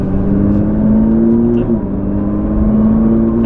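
A Nissan GT-R Nismo under throttle, a loud in-cabin engine drone whose pitch climbs, dips briefly as at a gear change, then holds steady and strong.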